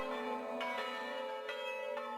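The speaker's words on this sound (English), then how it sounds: "the call to prayers at daybreak and church bells ringing" Church bells ring out in Palestine, with several distinct strikes spaced through the clip and long, shimmering overtones that hang between them. No voices are heard.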